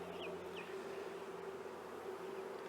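Honey bees buzz around an open hive during a tropical beekeeping session, a steady close drone that holds without a break, with a couple of faint bird chirps in the background.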